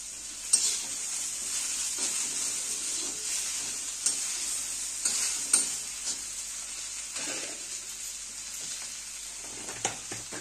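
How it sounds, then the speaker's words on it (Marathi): Okra roasting in a pan, stirred repeatedly: a soft, steady sizzle with intermittent scraping clicks of the spoon against the pan, close and fairly quiet, no talking. "सगळे एकसारखं भाजून घेऊया."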